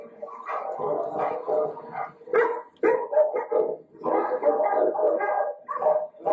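A dog barks repeatedly while holding a ball in its mouth, giving a muffled, harmonic yapping and whining in close, dense bursts with brief gaps.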